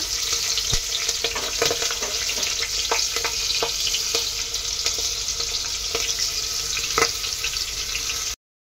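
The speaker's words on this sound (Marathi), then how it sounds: "मिरच्या पण चांगल्या फ्राय करून घ्यायच्या" Green chillies frying in hot oil with curry leaves for masoor pulao: a steady close sizzle with scattered stirring clicks, then an abrupt stop.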